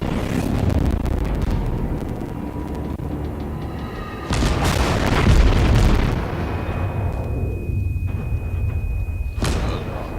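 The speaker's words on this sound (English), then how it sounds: "Taking some heavy fire coming in from that guy back there." Heavy naval shells land around a warship in World of Warships, with loud booms and bursts in the middle over a steady rumble of sea and engine, then quieter splashes and a final sharp impact.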